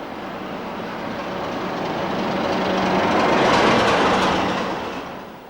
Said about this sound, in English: This 33 is on a route learning training trip to Eastleigh and Temple Mills.